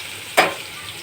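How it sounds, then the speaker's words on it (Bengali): Potatoes drop into hot oil, setting off one short, loud burst of sizzling that quickly fades to a low background hiss. "আমি প্রথমে আলুটাকে ভেজে নেব ভেজে তুলে রাখবো"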